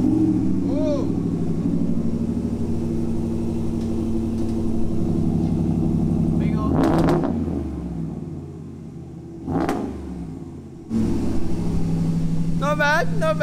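Engine of a Ram 1500 pickup truck fitted with a new exhaust idles with a deep, steady rumble, then revs up sharply twice before settling back and rising again, heard close by with brief voices around the revs.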